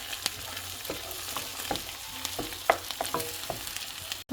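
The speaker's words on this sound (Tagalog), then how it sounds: "So pag okay na yung onion, lagyan na rin natin ng egg" An egg fries with onion in a hot pan for fried rice, a steady close sizzle with a few stirring scrapes and no talking.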